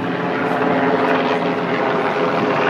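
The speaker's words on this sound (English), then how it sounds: "a helicopter going above us" A helicopter passes overhead outdoors on a city street, its rotor and engine roar filling the air as a loud, steady, broadband drone throughout.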